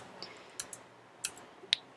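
A handful of light, scattered key clicks sound as a formula is typed into a spreadsheet cell on a computer keyboard. The taps are soft and irregular over a quiet background.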